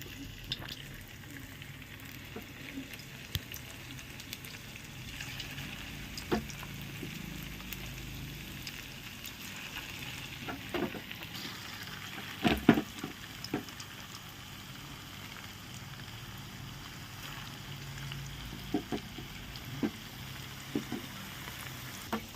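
Maida, potato and cabbage fritters deep-fry in oil over a low flame, a soft, continuous bubbling sizzle with occasional sharper clicks and pops, fairly faint throughout.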